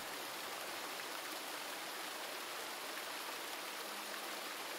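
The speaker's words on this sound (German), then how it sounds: "Nee, das ist Wasser, ne? Ach, das ist der Wasserfall nur." A steady rushing wash of falling water from a waterfall in the video game Retreat To Enen, constant and broadband, with no voices.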